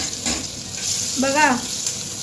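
Garlic and chutney frying in hot oil, a close, steady hiss of sizzling, with a voice speaking briefly over it.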